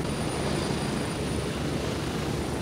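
A helicopter in the Gray Zone Warfare video game flies with a constant, droning rotor and engine rumble heard from inside or very near, steady and loud with no voices.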